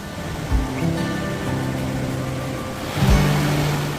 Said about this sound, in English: the Jhalong River flows just steps away